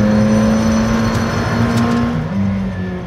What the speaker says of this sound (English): I mean, those downshifts are fabulous.